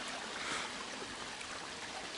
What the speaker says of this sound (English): I apologize in advance if you guys can hear water like throughout the whole video while we're even playing the board